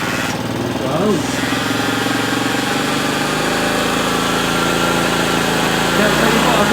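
A 1964 Honda CT200 Trail 90 motorcycle engine running steadily close by, a continuous buzzing idle with slight rises in pitch as it is revved, and a voice speaking briefly over it.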